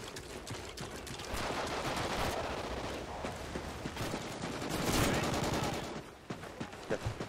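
Dense, sustained automatic gunfire and overlapping shots from the Call of Duty: Ghosts multiplayer match, continuous and loud across the whole stretch, easing briefly near the end before more bursts.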